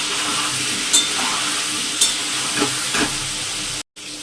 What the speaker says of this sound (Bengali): লবণ হলুদ দিয়ে আলুটা ভাজা ভাজা হবে